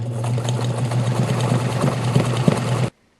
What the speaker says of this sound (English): just going to go ahead and stitch that triple stitch to give it a nice strong seam line